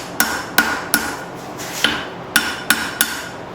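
Hammer blows ring out on a file being forged into a knife blade against the edge of an anvil, seven sharp metallic strikes at an uneven pace, close and loud with brief ringing decay.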